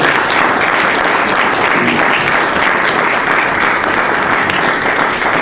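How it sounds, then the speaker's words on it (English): A room full of people applauds two debaters after a debate on citizen initiatives, dense steady clapping filling the whole stretch at close range without a break. "I think we give them a round of applause for their debate."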